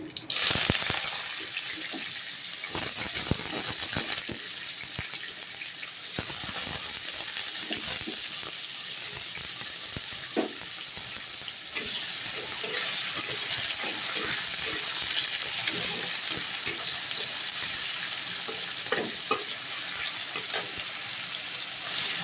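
Potatoes, with dried and fresh green chillies, fry in a pan, giving a steady, close sizzle that runs throughout. Occasional scrapes and clinks from stirring sit on top, and a voice speaks faintly at times.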